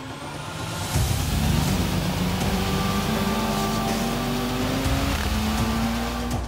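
A van accelerates hard away from the start on a race track during a world record attempt, its engine note climbing steadily in pitch with a brief shift near the end, loud and close throughout.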